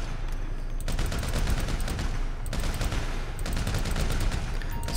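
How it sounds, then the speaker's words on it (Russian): A heavy machine gun fires long, rapid bursts at a shooting range in GTA V, loud and close, broken by short pauses between volleys, with no talking. "третье испытание, ага, тяжелый пулемет."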